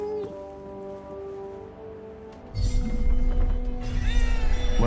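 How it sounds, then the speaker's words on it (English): A cat meows in the Forspoken video game, a few short calls over a steady ambient game soundscape that swells louder partway through. "A cat."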